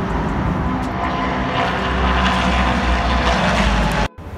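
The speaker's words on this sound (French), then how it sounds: "Et écoutez le bruit des voitures qui passent derrière." Race cars at the Le Mans circuit passing close by from inside the camping area, a loud continuous engine roar rising and swelling for about four seconds before cutting off abruptly.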